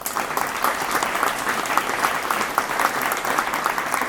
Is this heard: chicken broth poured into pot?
no